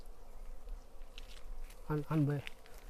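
Bees buzz around a beehive as it is being removed by hand, a steady low drone with a brief louder, tonal burst near the end.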